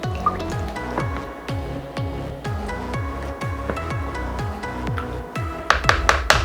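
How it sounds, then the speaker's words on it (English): Water sloshes and drips steadily as a spoon stirs it into a turkey brine pot, a regular rhythm of liquid swirls close up, with a few sharper clinks near the end. "Now I'm going to just stir it so the water could blend in with the water that's already in there"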